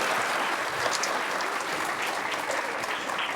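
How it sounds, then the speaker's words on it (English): Dense, steady applause from a large audience at a political gathering in Kashmir fills the space evenly for several seconds, loud and continuous, with a few cheers rising through the clapping. "we please have a huge round of applause?"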